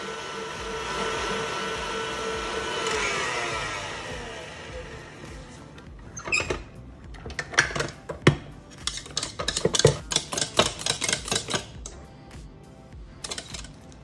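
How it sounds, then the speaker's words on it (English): An electric mixer whips heavy cream back into Chantilly: a steady, fairly loud whirring drone for about five seconds, then it stops and a run of close clatters and knocks of a bowl and utensils follows. "Beat for a few seconds and you will have the Chantilly back."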